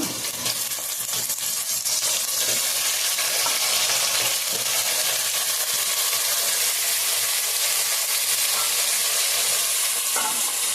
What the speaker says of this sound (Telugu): ఉల్లిపాయలు అయితే బాగా వేగుకొనియండి ఇవి మాంసం వేస్తున్నాను ఇందులో